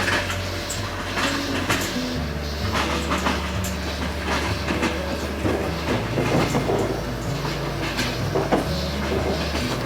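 A passenger train running on rails, a steady close rumble with low drone and faint irregular clacks and rattles throughout, no talk.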